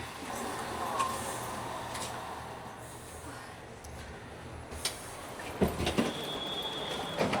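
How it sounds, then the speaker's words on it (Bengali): Chinese bullet train pulling out of a station platform, a broad steady rumble of rolling stock with faint squeals, a few sharp knocks and a high whine near the end, with brief talk in the background. "ও ছেড়ে দিল ট্রেন।"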